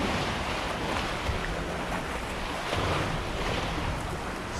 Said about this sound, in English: We got some banging waves.